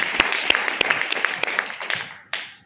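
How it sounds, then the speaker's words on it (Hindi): Scattered applause at a business income-plan seminar, a handful of distinct sharp claps in an uneven rhythm that thin out and fade, with one late clap after a pause. "एक बार जोरदार ताली होनी चाहिए"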